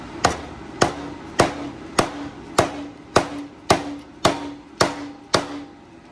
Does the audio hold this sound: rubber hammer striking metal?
yes